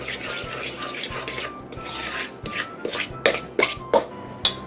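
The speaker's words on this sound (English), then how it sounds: "We're going to mix that in." Egg yolk being mixed by hand into Swedish jam thumbprint cookie dough: a spoon scrapes and knocks against the mixing bowl in irregular strokes, with several sharper clunks near the end, close and fairly loud.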